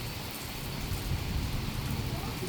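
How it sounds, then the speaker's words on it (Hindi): Heavy monsoon rain pours steadily in the mountains of Uttarakhand, a dense, continuous hiss of drops on surfaces with no pauses. "अचानक से इतनी तेज़ बारिश होने लगी।"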